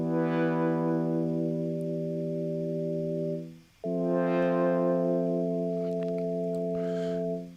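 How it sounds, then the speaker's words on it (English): Two sustained synthesizer tones played one after the other, each steady and bright with a brief dip between them, added as a second synth layer in a music track; no one talks. "Let's go ahead and drop in a sine wave."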